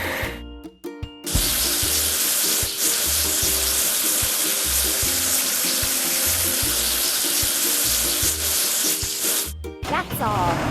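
Running water sprays and splashes steadily over a toy earth-mover digging machine being washed clean, loud and continuous for most of the stretch with a few brief knocks at the start and end.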